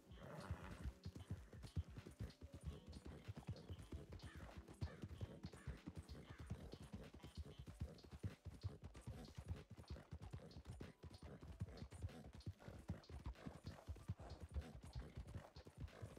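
Hooves clip-clopping at a quick, even trot as a fast horse is ridden along a road in the RedM video game, faint and steady throughout with no talk over it.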